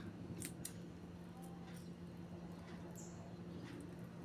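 Scissors snip a plastic drinking straw for a craft flower with a few quick, light cuts. The snips are faint against a steady background hum.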